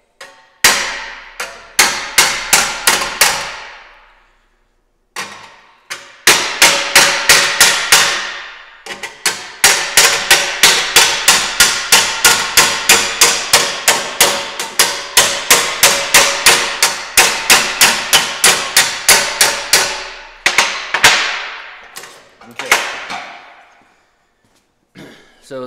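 Rapid metallic hammer blows ring out in long bursts of steady strikes as a hammer and dolly planish welds on a sheet metal panel, loud and close, with brief pauses between runs.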